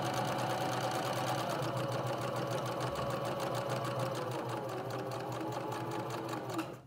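Sewing machine runs steadily and close up for about seven seconds, stitching along the edge of a fabric pocket with the edge of the presser foot as a guide, then stops abruptly at the end.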